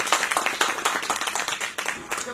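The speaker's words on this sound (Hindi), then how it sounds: "प्लीज इन फिल्म मेकर के लिए तालियां बजाएं" Audience clapping for a group of filmmakers at a Cannes for India film festival event, a steady stream of separate claps from a modest crowd, fairly close and moderately loud, with faint voices underneath.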